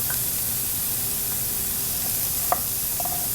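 Beef sizzles steadily while stir-frying in a pan, a dense continuous hiss close up, with one brief utensil clink near the end and a faint ring after.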